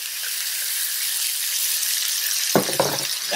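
Oil crackles and sizzles steadily in a frying pan while breakfast burrito ingredients cook, a close, continuous hiss with a couple of brief clatters near the end.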